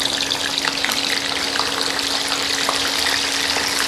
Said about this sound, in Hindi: जो पीस हमने स्टफिंग करके रखे थे उसको हमें ऑयल में डाल के फ्राई कर लेना है।